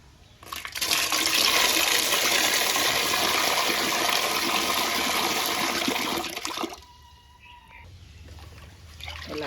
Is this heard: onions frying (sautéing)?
no